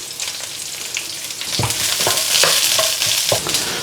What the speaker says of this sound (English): in the pan, a little bit of oil, in with some onions, in with a little bit of garlic